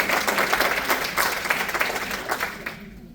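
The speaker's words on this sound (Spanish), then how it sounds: "dale un fuerte aplauso, Señor" Church congregation breaking into a loud round of applause during a sermon, close, dense clapping that swells and then drops off abruptly near the end.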